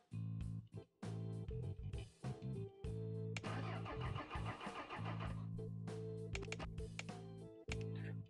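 A car engine in the Retro Garage mobile game cranks over and over without catching, a steady mechanical churn that briefly drops out near the start and cuts off at the end, with no talking.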